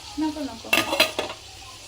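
Pomfret fish frying in a pan, a soft steady sizzle with a few louder bursts of stirring or turning, close and alone with no voices.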